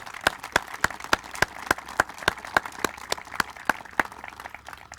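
Evenly spaced hand claps repeat in a steady rhythm at moderate volume, like a small group clapping together at a park opening ceremony, with no talking.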